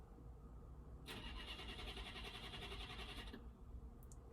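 A car engine cranks for a couple of seconds with a rapid mechanical whirring, then stops without catching, heard faintly against a low rumble.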